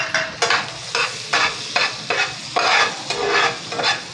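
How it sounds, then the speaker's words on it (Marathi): Chopped garlic fries in a hot pan while a spoon stirs it, making loud, rhythmic scraping strokes over a steady sizzle, close up with no voices. "लसूण टाकते, चिरलेला लसूण हा तो घालते त्याच्यामध्ये"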